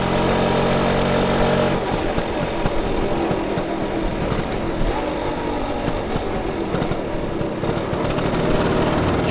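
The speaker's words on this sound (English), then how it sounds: "You can tell the Bantam is cold because it's not getting the full throttle properly yet." A cold BSA Bantam 175 motorcycle engine runs steadily close by, a loud, continuous two-stroke drone with uneven, rough throttle response and no talking.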